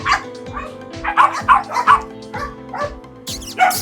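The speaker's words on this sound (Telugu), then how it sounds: "చాలా బ్యూటిఫుల్ పప్పీస్ ఉన్నాయి. You can see how active they are." Belgian Malinois puppies in a Hyderabad kennel bark and yip in quick, overlapping bursts, close by and fairly loud, with a steady low hum underneath throughout.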